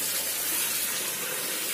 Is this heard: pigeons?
no